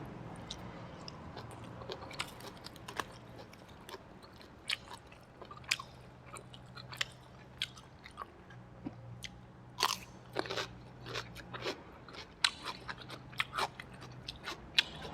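Close chewing while eating steamed catfish baked with dill and sticky rice, with fried pork, giving a steady run of soft crunches, wet squishes and bites over a faint low hum.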